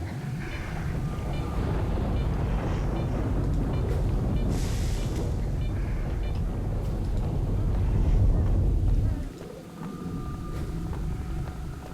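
Rain and gusting wind from an ambient weather effect in the S.T.A.L.K.E.R. game, The Wind of Time, a thick continuous roar that builds slightly, then drops off sharply near the end to a thinner, quieter hiss.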